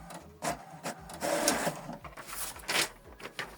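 An HP Deskjet printer runs an information page, giving a close, rhythmic mechanical whirr with repeated clicks and feed pulses over several seconds, alone without talk.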